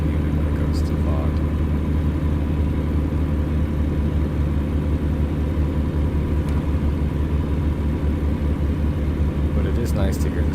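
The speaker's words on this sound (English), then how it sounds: "But it is nice to hear the sound of that Kenworth." A Kenworth truck engine in a truck simulator game drones as a steady, low, even rumble for the whole stretch, with no change in pace and a voice faintly over it.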